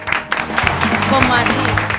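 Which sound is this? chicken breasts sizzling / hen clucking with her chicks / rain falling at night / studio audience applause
studio audience applause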